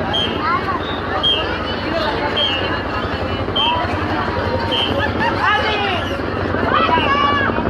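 Helicopters drone steadily overhead during a street parade in Apatzingán, with crowd babble and voices blending into the continuous rotor and engine noise throughout.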